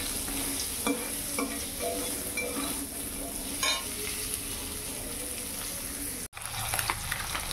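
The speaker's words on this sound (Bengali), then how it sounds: "চলো ডাঁটাটা ভেজে নিই" Vegetable stalks fry in a pan with a steady, dense sizzle and occasional scrapes of a spatula stirring, close and continuous, with a brief dropout near the end.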